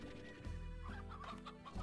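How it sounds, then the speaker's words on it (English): Hens cluck in the video game Slime Rancher, a few short, soft, bubbly clucks close by against a quiet game background. "Hens. Let's gather some hens around here."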